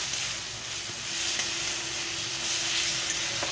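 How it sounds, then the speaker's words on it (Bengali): Ginger garlic paste is stirred into a frying egg curry masala in a pan, with a steady sizzle and soft scraping strokes throughout, quiet and close with no talk. "দিয়ে আবারও ভালো করে মিশিয়ে নেব।"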